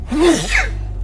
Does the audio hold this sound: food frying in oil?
no